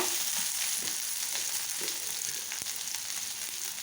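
Onions, garlic, coriander seeds, cumin and dried red chillies fry in a pan with a steady close hiss, broken by occasional soft stirring clicks and crackles.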